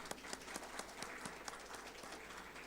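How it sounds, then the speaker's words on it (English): Applause from a conference audience at an SAP event at SNU, a steady dense patter of many hands clapping, fairly quiet and even throughout with no talking over it. "Can we have a big round of applause, please?"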